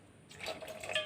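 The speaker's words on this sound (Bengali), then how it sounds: "এখন আমি এর মধ্যে পরিমাণ মতো জল দিয়ে দেব।" Water poured into a pot of rajma curry gives a soft, trickling splash that starts after a brief quiet moment and runs steadily to the end, close and fairly faint.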